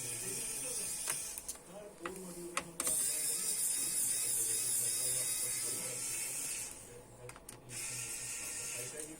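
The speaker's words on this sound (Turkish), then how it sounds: "Şarjlı tornavida setini kullanıyorum arkadaşlar" A Xiaomi Wowstick cordless electric screwdriver at work on an ASUS X54H laptop repair, giving a thin high whirring motor buzz with short clicking bursts and gaps, close up under someone talking.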